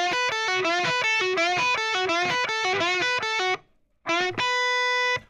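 Distorted electric guitar plays a solo phrase slowly, a steady run of picked notes, then a brief silence before two more notes with the last one sustained, loud with no voice.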